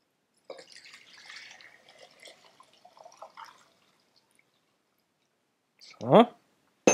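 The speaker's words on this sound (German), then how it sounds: "Wir gießen das jetzt mal ab und füllen das dann zurück." Lavender blossom lemonade syrup is poured off in a kitchen: soft trickling and dripping, a short quiet pause, then a brief louder splash of liquid near the end, close up and with no talking.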